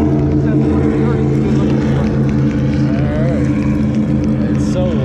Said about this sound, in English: It's so loud, these damn cigar boats